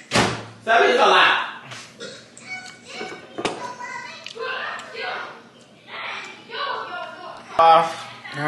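A door bangs shut somewhere close by in a busy place with children playing and chatting, one sharp thud breaking through ongoing voices and background commotion.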